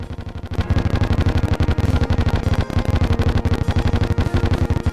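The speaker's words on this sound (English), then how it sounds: "Twirls a baton that creates explosions and enemy hits" Rapid, relentless bursts of explosions from a twirled baton weapon in Terraria Calamity, loud crackling blasts firing in a fast rhythmic stream like machine-gun fire, with no talk over them.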